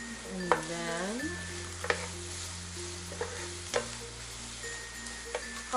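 Garlic goes into a hot pan of sizzling pork belly, giving a soft hiss and crackle with a few light clinks of a utensil, heard under steady background music.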